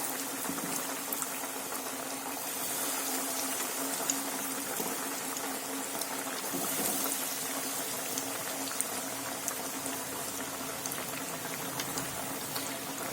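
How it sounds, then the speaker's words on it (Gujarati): Potato and pea cutlets deep-frying in hot oil on a high flame, a dense, even bubbling hiss that runs steadily for the whole stretch without speech. "આપણે આ કટલેસને તળવાની છે"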